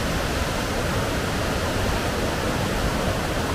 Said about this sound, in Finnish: Kyllä virtaa valtava määrä vettä siinä.